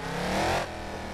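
A Mercedes C63 AMG with a loud exhaust rumbles close by on a Tokyo freeway, its engine swelling to a brief peak before settling back to a steady drone.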